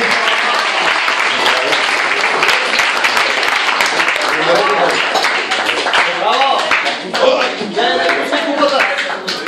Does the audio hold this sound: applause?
yes